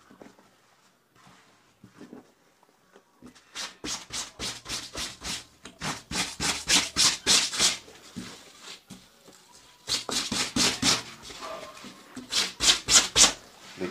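A white shirt scrubbed by hand at a dry cleaner's, giving quiet rubbing at first, then a run of loud, rhythmic brushing strokes in quick bursts with short pauses between them.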